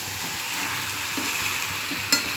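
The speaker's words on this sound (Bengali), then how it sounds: "এবার আমি আলু, ভেজে রাখা আলু আর পটল একসাথে দিয়ে দেব" Potatoes and pointed gourd frying together in a pan give a steady, close sizzle with faint stirring scrapes and one brief clatter near the end, with no voices.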